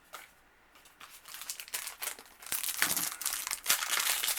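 Trading card booster packs from Core 2021 being ripped open, soft crinkling at first that builds into repeated sharp tearing and crumpling of foil wrappers, close and fairly quiet.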